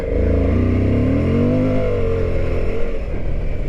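A 2023 Suzuki V-Strom 1050DE adventure motorcycle revs hard off-road with the rear ABS switched off, its loud, close engine climbing and falling in pitch and the rear tire easily breaking loose.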